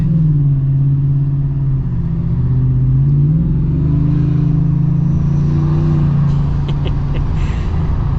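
A deep engine in a lowered 2025 Black Widow Ford F-150 pickup rumbles and revs up steadily under partial throttle, close and continuous, pitch rising as it accelerates.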